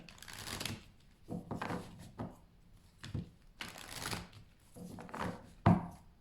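A deck of cards being shuffled by hand, several irregular riffling, rustling bursts with pauses between them and a sharp tap near the end.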